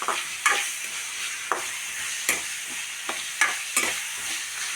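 Something sautés in a pan, softening before okra goes in for an okra curry. A steady sizzle runs throughout, with a spoon stirring and scraping at a regular rhythm, close and clear with no talking.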